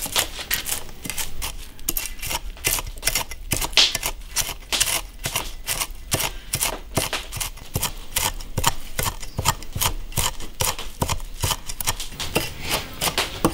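A kitchen knife rapidly chops fried chili peppers on a cutting board, a steady stream of sharp, dense knocks continuing without pause.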